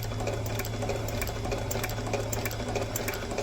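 Cobbler's sewing machine stitching a thin leather welt onto an army boot during a sole conversion, a fast continuous mechanical chatter with a steady low motor hum.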